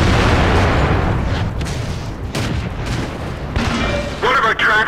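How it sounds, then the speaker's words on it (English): Shell strikes against a tank's tracks in World of Tanks ring out as loud booming impacts, heavy and continuous across the moment with a sharper metallic burst near the end. "One of our tracks was hit."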